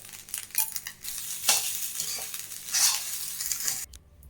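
A spoon stirs and scrapes through a raw mango and peanut rice mix, mango pulihora, in a pan, making repeated close rustling, scraping strokes with a faint sizzle and no voices.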